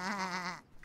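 Animated cartoon sheep giving a single wavering bleat, close and clear, that ends abruptly into near silence.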